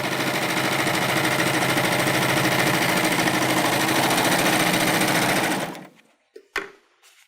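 A Baby Lock Euphoria cover stitch machine runs at full speed in a loud, dense, steady mechanical whir for several seconds, then stops abruptly, leaving a couple of small handling clicks.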